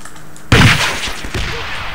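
RPG fired in the shooter Breach during a team deathmatch: a sudden loud blast after a quiet moment, followed by a rumbling, crackling tail and a smaller thump, with no voices.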